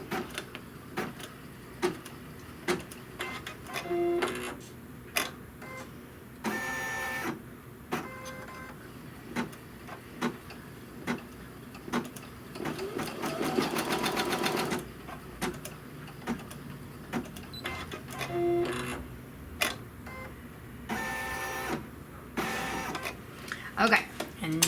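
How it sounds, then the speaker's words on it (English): Embroidery machine stitching basting stitches along the edge of a trapunto pillow, short bursts of mechanical whirring and ticking between pauses, close by, with a person talking over and between the runs. "we're just going to stitch these basting stitches"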